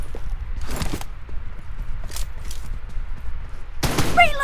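Video game gunfire comes in several short bursts of shots, close and fairly loud, with quieter rumbling and a brief game voice near the end.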